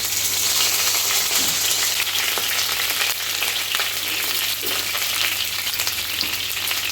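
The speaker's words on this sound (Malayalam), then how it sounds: "അതിലേക്ക് ഇതാ നമ്മളെ കറിവേപ്പില അങ്ങനെ വാരി വിടണം" Curry leaves dropped into hot oil fry with a loud, dense, continuous crackle and hiss that stays steady throughout, with no voices.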